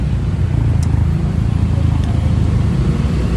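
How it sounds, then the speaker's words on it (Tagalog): Road traffic rumbles steadily nearby: a continuous, loud, low drone of car and motorcycle engines that does not let up. "Traffic, man."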